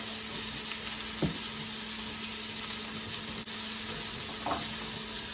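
Hamburger patties frying in a pan for cheeseburgers, giving a steady, close hiss and crackle of sizzling fat that continues evenly with a couple of brief clinks and no speech.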